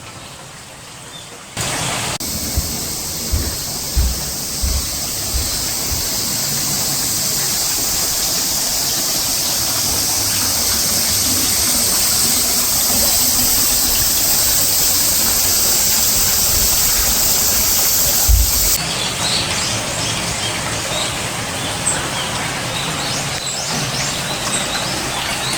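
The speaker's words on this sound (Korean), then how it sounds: "온천을 이용하실 때 항상 이런 강소리와 새소리를 들을 수가 있는데요" A river flows beside a hot spring ryokan in Yufuin, a steady loud rushing wash of water heard up close and continuously, with faint bird chirps scattered underneath.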